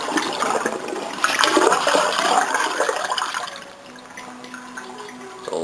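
Water drains and gushes into a pit in a steady, rushing flow, loud at first and then easing into a softer trickle near the end.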